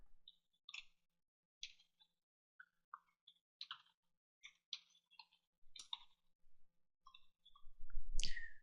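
Sparse, soft keystrokes tap on a computer keyboard in irregular bursts in a quiet room, ending with a louder rustling burst.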